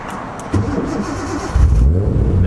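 A Nissan 240SX S14 fitted with an RB25 engine cranks and catches after a fill-up, the engine note jumping louder partway through and settling into a close, rumbling idle.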